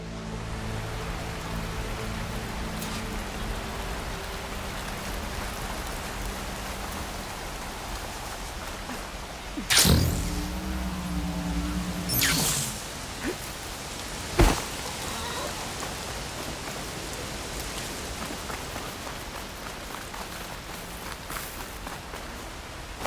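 Steady, even rainfall hisses throughout a scene in the video game Horizon Forbidden West, with a few sharp impacts and a low tonal hum partway through, but the downpour stays constant from start to finish.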